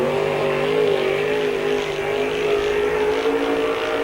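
A race car on a dirt speedway runs a qualifying lap at the 1997 Spoon River Speedway Summer Nationals, its engine a loud, steady, high-revving drone that holds a sustained pitch without break.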